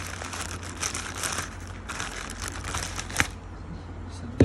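A cut plastic package holding an Ivy puzzle cube is pulled open, giving close, continuous crinkling and crackling with a sharp snap near the end.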